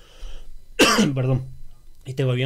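A man coughs sharply and then clears his throat with a rough, gravelly rasp, followed by the start of a voiced sound, close and fairly loud.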